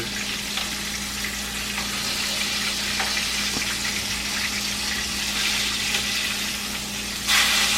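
Chicken pieces breaded in crushed potato chips fry in a pan of oil with a loud, continuous sizzle and crackle, ending in a brief louder burst of spitting, and no voices.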